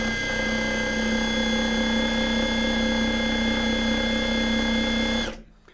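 Cordless impact driver, one of a DeWalt, Ingco or Total model, spinning freely in forward on its low speed setting; a steady, loud motor whine with a constant pitch holds for about five seconds and then cuts off abruptly.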